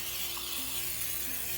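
A short, continuous hiss of an olive oil mister spraying over potatoes, close by, lasting under two seconds with a faint mechanical squeak.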